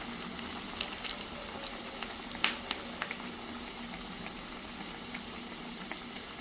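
A vada fries in hot oil over a high flame, making soft, faint bubbling with scattered small pops and crackles throughout.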